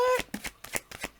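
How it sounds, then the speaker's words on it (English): A deck of oracle cards being shuffled quickly close by, a rapid run of crisp riffling flicks following a brief spoken word. "They're going to make me ugly shuffle."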